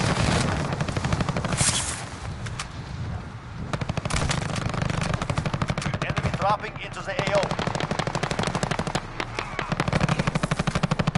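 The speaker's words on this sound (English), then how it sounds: "Wow, the recoil on this gun is insane." Rapid automatic fire from a Kilo rifle in a video game, sustained bursts of sharp cracks that run almost the whole time, loud and close, with a voice talking over them.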